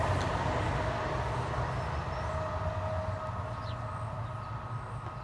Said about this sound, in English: Wait for this train to go by.